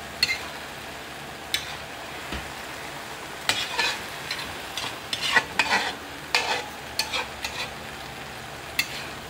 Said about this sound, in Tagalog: Hayaan nyo lang pong maluto yung itlog muna bago nyo siya haluin guys.